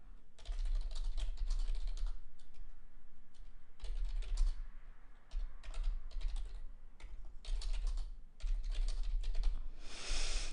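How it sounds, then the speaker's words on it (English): Rapid clicking keystrokes on a computer keyboard come in bursts with short pauses between, close and steady, with no voices. "I assume everybody can hear me typing"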